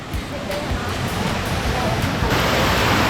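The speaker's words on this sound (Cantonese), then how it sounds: "咁我而家就喺呢幾浸嘅瀑布底啊，咁啊望翻上去，而家呢個洶湧嘅水流都幾靚啊" Rushing water thunders down a multi-tiered waterfall on Ping Nam Stream in Hong Kong. The steady, loud, broadband roar is heard close up, with wind buffeting the microphone.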